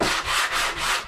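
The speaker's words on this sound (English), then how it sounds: "we'll just give these a quick, very quick little sand" Wood on a wooden liveaboard boat being hand sanded with sandpaper, three close, steady rubbing strokes in a back-and-forth rhythm with no talking.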